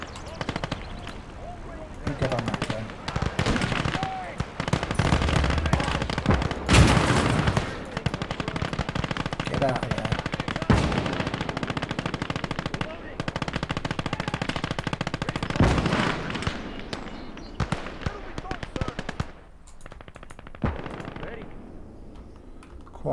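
Mounted machine gun fires in a Gates of Hell WWII battle, with long, loud sustained bursts and heavy explosions across the whole stretch, while a voice talks over the combat.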